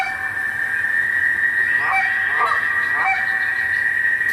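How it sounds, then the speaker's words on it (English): A few Canada goose honks, one higher and one lower, sound over a continuous high-pitched drone of crickets, moderately loud and close. "it's a high-pitch cluck, or high-pitch honk and a low-pitch honk."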